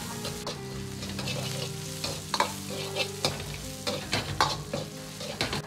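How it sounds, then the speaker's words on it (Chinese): Ginger and garlic stir-fried in a hot wok for spicy chicken: steady close sizzle with scraping spatula strokes and clinks, no voices. "接着倒入姜蒜米，煸炒出香味。"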